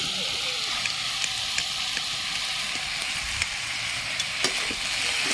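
Chopped tomatoes and small eggplant pieces fry in a pan with a constant loud sizzling hiss, broken by faint stirring clicks and scrapes, close up with no talking.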